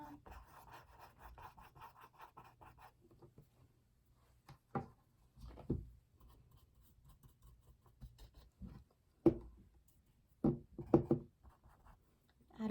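A big paintbrush works paint around the outline of a wolf's mouth on canvas, making soft, quiet rubbing strokes with a few light taps and scrapes scattered through an otherwise hushed space.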